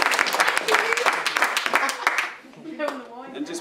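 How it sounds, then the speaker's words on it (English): Applause at a wedding reception, with a crowd clapping briskly and densely for about two seconds before fading, after which a voice speaks. "just a big thank you and a round of applause as well for Kevin"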